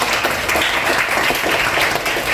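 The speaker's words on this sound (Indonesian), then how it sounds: "Berikan tepuk tangan untuk Pan ya." Classroom audience clapping for a student, a dense steady patter of many hands lasting a couple of seconds, close and fairly loud.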